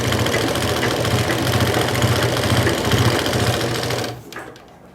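A sewing machine runs steadily while stitching a nighty, its fast rhythmic motor hum loud and close for about four seconds before it stops abruptly.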